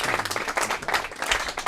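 Applause at a staff appreciation dinner for a yeshiva: steady dense clapping from a room of guests throughout, fairly loud and close, with no talk over it.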